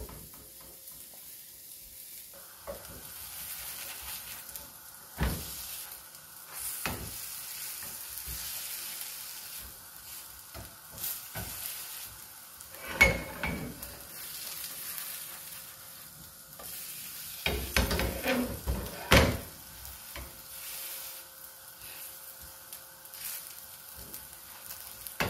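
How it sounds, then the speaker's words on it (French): Potato rösti patties fry in a pan with a steady low sizzle, broken by occasional scraping and stirring clatter from turning them, and no voices. "Et colorer un petit peu les galettes de chaque côté."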